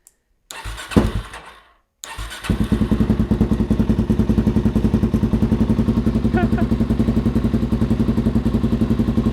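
Suzuki DRZ400SM motorcycle with an MRD exhaust and no baffle or spark arrestor, heard close and loud as it cranks, catches and then settles into a steady, rapid, thumping single-cylinder idle.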